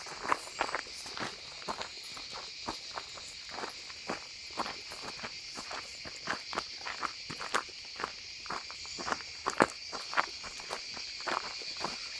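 Crickets chirp steadily in a Himalayan forest near Mussoorie, a continuous high shrill drone with soft footsteps crunching along a trail in a regular rhythm.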